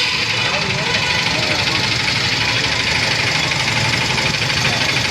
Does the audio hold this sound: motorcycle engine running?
yes